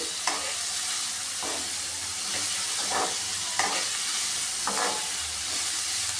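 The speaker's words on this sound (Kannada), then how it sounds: "ಹೂಕೋಸ್ ಹಾಕ್ತಾಯಿದ್ದೀನಿ ಸ್ವಲ್ಪ ಹಾಗೆ ಬಾಡಿಸ್ಕೊತಾ ಇದ್ದೀನಿ ಇದನ್ನ ಹೂಕೋಸನ್ನ" Cauliflower florets sautéing in hot oil in a pan, giving a dense continuous sizzle close up, broken by several soft scraping strokes of a spatula turning the pieces every second or so.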